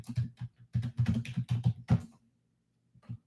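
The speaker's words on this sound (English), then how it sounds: "I'm typing without looking at the keyboard" Fast typing on a computer keyboard, a close run of quick clicky keystrokes for about two seconds, a pause, then a couple of final taps.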